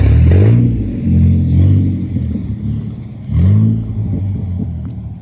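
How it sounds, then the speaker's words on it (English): A 1963 Chrysler car rumbles nearby as it is driven, its engine note rising in two throaty revving surges between steadier idling stretches, with no voices. "Gonna, I guess, drive the car over here"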